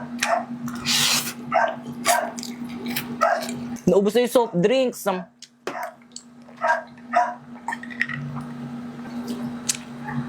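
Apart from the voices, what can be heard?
male dogs barking at home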